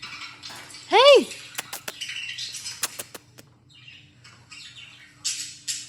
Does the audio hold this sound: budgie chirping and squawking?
yes